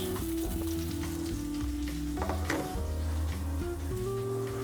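Beef steak frying in a pan while basted with aromatic butter, garlic, thyme and rosemary: constant close sizzling and spattering, with soft clinks and stirring and no talk.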